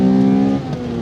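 A 1992 Honda Integra XSi's VTEC engine revs hard and loud, a strong steady high-pitched drone close by that eases slightly partway through, with no talk.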